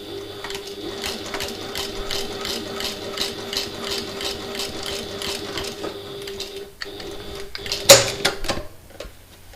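A sewing machine set to regular stitch length runs steadily through backpack fabric, its rapid needle clatter close and even, then it slows and stops with a couple of faint clicks near the end.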